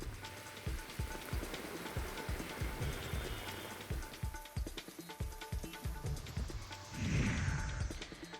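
Heavy monsoon rain pours down in a rural area near Junnar, Maharashtra, a dense steady hiss with irregular drops and splashes close by, continuous and moderately quiet.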